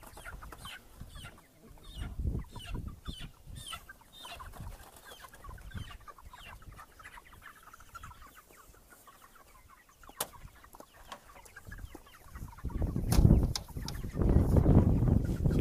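Chickens cluck and scratch about on open pasture, with scattered soft clucks and rustling and a louder burst of flapping and calls near the end.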